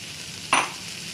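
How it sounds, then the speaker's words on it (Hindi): Dal lentils roast with onion in a pan under a steady soft sizzle, broken by one brief, sharper scrape of stirring. "अब ये दाल भुन गई है।"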